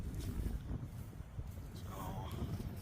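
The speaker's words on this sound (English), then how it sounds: "Now we're getting a pretty good wind gust, and both of them are hanging right in there." An outdoor wind gust blows steadily against the microphone as a broad, rushing noise, loud and continuous throughout with no clear voices.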